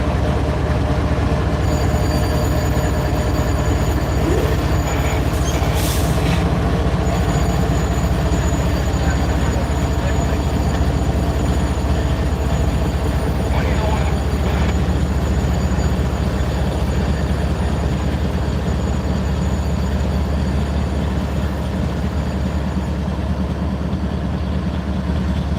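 A Norfolk Southern freight train rumbles past up close, loud and continuous for over twenty-five seconds, with steady low engine drone, rolling wheel noise and occasional squeals, while voices talk faintly underneath.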